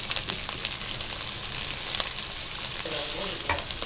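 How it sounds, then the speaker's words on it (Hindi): Chicken fries with soy sauce for macaroni, giving a steady, close sizzle broken by faint stirring scrapes throughout. "चिकन को खूब अच्छी तरह से फ्राई कर लेना है"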